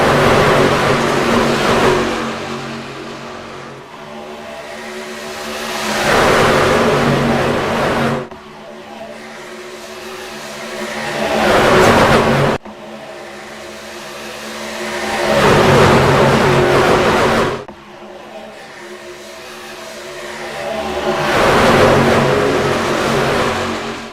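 About thirty race trucks roar around Daytona International Speedway, engines swelling loudly as the pack passes, then fading and building again in repeated waves, with crowd and track noise between the passes.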